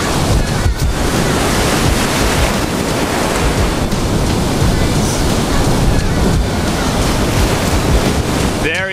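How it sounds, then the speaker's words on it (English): Strong wind and crashing surf on a Hawaii shore during surf fishing, with a roughly 15 mph wind blowing parallel to the beach and a strong riptide. Steady, loud roar of waves and wind buffeting the microphone throughout. "Probably got like a 15 mile per hour parallel wind going right now."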